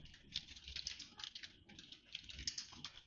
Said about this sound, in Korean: 컨트롤 플러스 알파벳 2를 눌러서